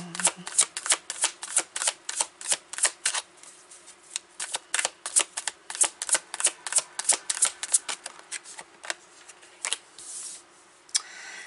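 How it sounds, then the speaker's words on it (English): Tarot cards are shuffled by hand in a long run of quick, crisp riffling bursts, close and fairly loud, with no talk. "I usually pull 3 cards to see what the week is looking like"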